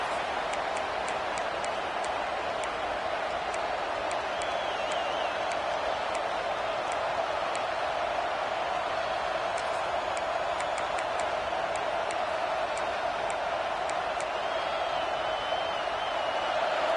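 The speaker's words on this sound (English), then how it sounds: "It's early, but this crowd is fired up. Listen to this noise here." Stadium crowd noise in a football video game forms a steady, loud wash of distant roaring and cheering, broad and continuous throughout, with faint repeated clicks and whistles scattered through it.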